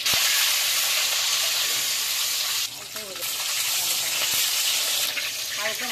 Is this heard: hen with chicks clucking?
no